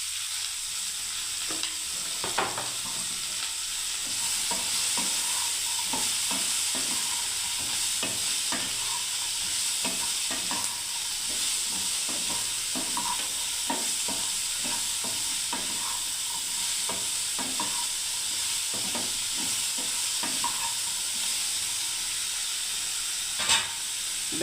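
Food frying in a pan with salt, red chilli powder and turmeric, a steady close sizzle broken by frequent sharp scrapes and clicks of a spatula stirring through it.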